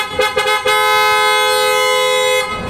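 PIAA-style aftermarket horns fitted to a Toyota Wigo blare loudly: a few short toots followed by one long, sustained bright honk lasting nearly two seconds, close and dominant.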